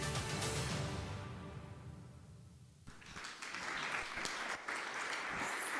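An audience at a partnership celebration event claps for the media team, dense applause that fades briefly and then swells back up into a full, steady round.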